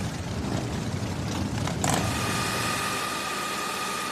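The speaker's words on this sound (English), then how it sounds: "But the real test of a Harley is what it sounds like." A Harley-Davidson V-Rod motorcycle engine running, a steady low rumbling idle held at moderate loudness, with a brief mechanical clatter midway, no talk.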